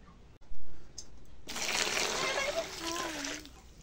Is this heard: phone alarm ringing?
no